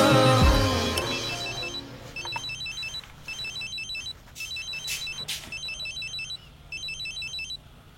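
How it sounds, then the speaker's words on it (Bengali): A telephone rings in a repeating pattern of short electronic trill bursts with brief gaps, moderately loud and alone after a fading musical sting at the start. "এতবার ফোন দিলাম, ফোন ধরলি না কেন?"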